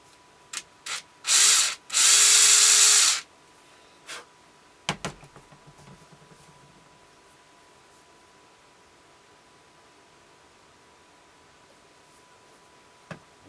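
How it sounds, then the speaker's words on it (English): A power drill whirs in a short burst of about a second, drilling into a wooden dowel, preceded by a few clicks and followed by scattered tapping, then near silence. "We'll just drill just a little bit in so we can set our screw in here."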